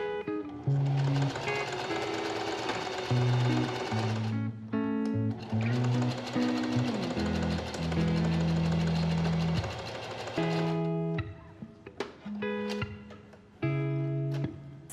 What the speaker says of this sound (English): I'm just going to do a simple basting stitch around here so that we can start gathering that together